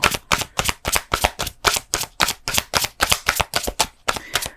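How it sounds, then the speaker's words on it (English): Tarot cards being shuffled by hand during a reading, a run of about fifteen crisp riffling bursts in steady rhythm, close and fairly loud, with no talking. "One more shuffle."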